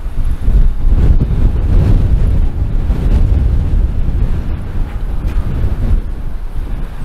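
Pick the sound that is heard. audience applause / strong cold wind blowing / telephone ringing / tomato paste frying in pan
strong cold wind blowing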